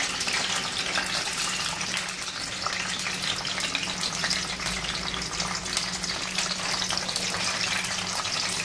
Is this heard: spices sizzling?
yes